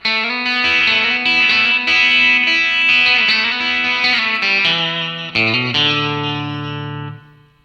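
Electric guitar with effects plays the opening line of the solo from the gospel song You Just Can't Beat Jesus Christ, a melodic run of sliding single notes ending on a sustained, fading note, with no voices.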